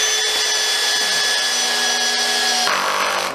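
A Hitachi DV18DBFL2 cordless drill on torque setting 18 drives a screw into wood, a loud steady motor whine that drops sharply in pitch near the end as the screw bites, with no voices.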